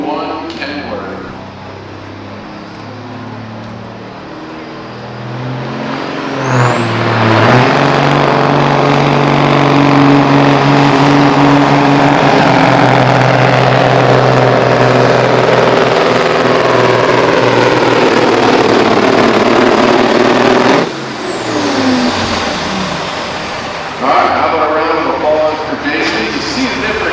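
A 01 Kenworth pulling truck roars at a truck and tractor pull, its engine climbing to a loud sustained howl with a high whine for about fourteen seconds, then cutting off abruptly and picking back up briefly.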